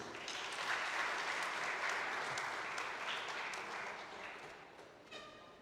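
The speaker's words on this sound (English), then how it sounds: "Resounding applause, please." Sustained audience applause at a business roadshow event in Ilocos Norte welcoming India's ambassador to the Philippines, a steady dense wash of many hands that fades slightly toward the end.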